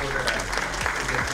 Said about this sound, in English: So let's give a round of applause to everyone who supported